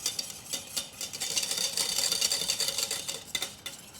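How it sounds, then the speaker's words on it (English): A whisk clatters steadily in a pot as pectin and sugar are beaten into a strawberry mixture, a quick, scratchy, rhythmic stirring heard close up and without speech. "just give it a good whisk"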